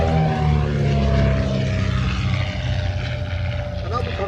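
Hawk Speed 6 propeller aircraft flying past, a loud steady engine drone with a slowly falling pitch, close and continuous throughout.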